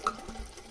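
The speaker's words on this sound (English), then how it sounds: "All right, so we're gonna get this fuel put in here." Fuel poured from a plastic water bottle into a TRX90's newly installed big carburetor gives a soft, brief liquid splash and trickle, faint and close, lasting under a second with no talking.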